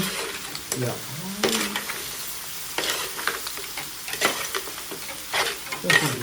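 Onions and garlic for a paella are stirred in a sizzling pan, with steady frying hiss and repeated scraping, clattering strokes of the spoon, loud and close throughout.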